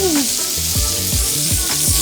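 Butter sizzling loudly in a pan around a thick beef sirloin steak, a dense continuous crackle and hiss close up with soft rhythmic bubbling underneath.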